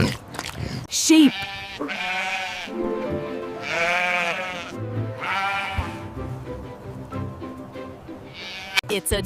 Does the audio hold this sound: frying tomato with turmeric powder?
no